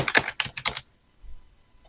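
Computer keyboard typing in a close burst of about four quick key clusters, then a brief pause and a couple of faint taps, with no talking.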